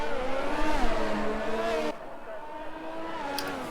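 A Haas Formula 1 car in a racing video game pulls out onto the track during the Canadian Grand Prix, its engine a high, steady whine whose pitch climbs and dips, then drops quieter as it moves away.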